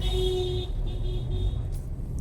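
Road traffic on the way to Lonavala: a steady low rumble of vehicles with a sustained engine or horn-like tone that drops in and out briefly.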